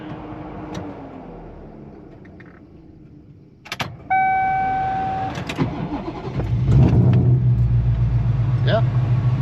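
A car engine at a shop cranks briefly and catches, settling into a steady, moderately loud running rumble with a faint tonal whine, preceded by quieter background noise and a couple of clicks.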